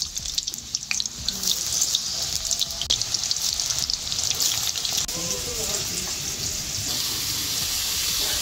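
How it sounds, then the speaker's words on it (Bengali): Jackfruit pieces fry in hot oil, giving a loud, dense, continuous sizzle throughout with occasional clatter from the pan and faint voices underneath. "এইবার এই তেলের মধ্যে এঁচড়গুলো ভেজে নেব।"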